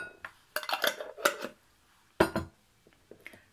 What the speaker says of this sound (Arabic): ندمجوا هاد المكونات هادي مزيان